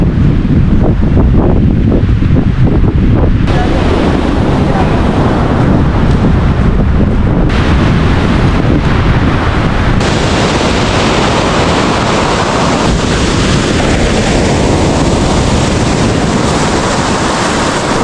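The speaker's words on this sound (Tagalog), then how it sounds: "Grabe yung lakas ng alon." Strong ocean surf pounds the shore at Dingalan, Aurora during a storm, loud and continuous, with heavy wind buffeting the microphone throughout and no voices.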